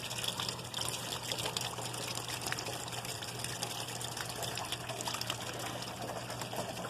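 Rainwater overflowing from a clogged gutter during heavy rain, pouring down near a door in a steady, continuous rushing gush with splashing throughout, fairly close and alone.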